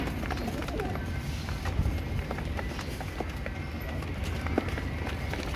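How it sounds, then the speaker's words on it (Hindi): Pigeons shuffle and flutter inside a loft, with soft scattered scratches and wingbeats under steady background noise and nearby movement. "ये डब वाले कबूतर"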